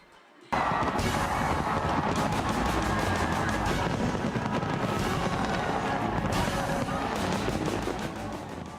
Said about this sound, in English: welcome 2014 with a 12-minute firework display